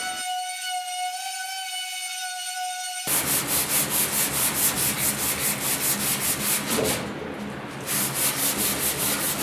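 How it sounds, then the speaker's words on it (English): An electric sander works across the painted inside of a 1972 Ford 4x4 truck box, starting after a steady whine and then running loud and close in a continuous pulsing grind, with no voices. "There's a lot of surface area on the inside of a box, so it's going to take some time to get everything sanded."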